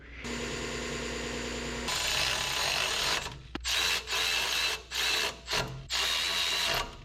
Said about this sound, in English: Little chamfer on the end and quick clean up on the wire wheel.